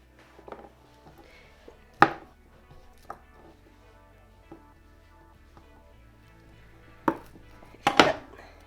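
A knife cuts through pizza dough against a board, trimming off a hard, stuck-together piece: a few sharp, separate knocks and thuds spaced apart, the loudest at the start and end, close-up in a quiet room.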